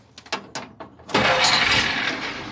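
A 1931 Willys engine cranks with a few short, uneven bursts, then catches at about one second and settles into a loud, steady running idle close by, with no talking.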